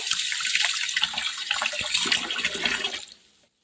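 Running water gushes and splashes steadily for a few seconds, close by, then cuts off abruptly near the end.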